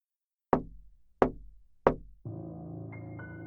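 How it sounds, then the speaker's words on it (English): Three distinct knocks on a door at a steady pace, fairly faint, followed by a low steady hum that continues to the end. "I heard a faint knocking at my front door"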